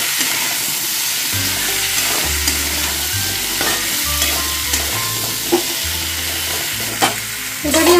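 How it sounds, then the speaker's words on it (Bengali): Pumpkin and potato fry loudly with salt and turmeric in a pan, a continuous close sizzle punctuated by repeated scraping and stirring strokes that come in uneven bursts across the whole stretch, with no one talking. "দেওয়ার পর ভালোভাবে এটা ফ্রাই করে নিতে হবে।"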